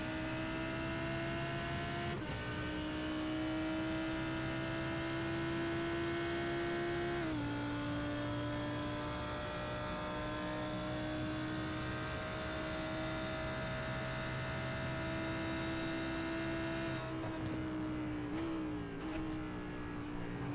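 A V10 race car engine wails continuously at high revs from on board around the Daytona banking, with a few short pitch drops as gears shift, steady and loud throughout.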